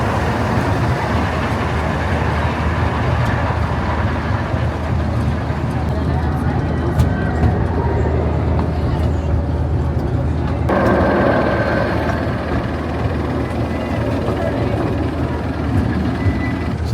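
Steady rolling rumble and clatter of a small amusement park train ride at Six Flags Magic Mountain, heard from on board as it loops a short circuit. A noisy shift comes partway through, and voices talk over it.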